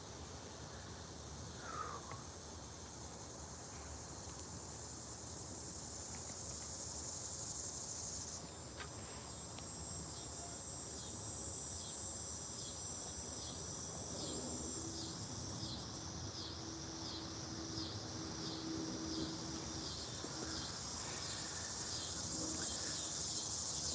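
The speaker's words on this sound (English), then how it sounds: "Oh, we're in the cicada time." Cicadas or similar insects buzzing outdoors in the evening, a constant shrill drone that swells and pulses with rhythmic chirring in the second half, fairly faint and steady with no talk.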